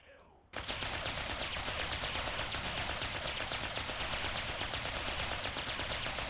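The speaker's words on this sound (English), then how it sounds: "How about the multi-laser?" A multi-laser weapon in a Warhammer 40K strategy video game fires after a brief quiet start, then keeps up a dense, loud, rapid stream of shots without a break to the end.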